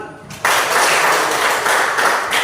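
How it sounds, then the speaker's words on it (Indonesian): A class of students breaks into applause after a group presentation, a loud burst of clapping that starts abruptly and carries on steadily for about two seconds. "Ya, tepuk tangan."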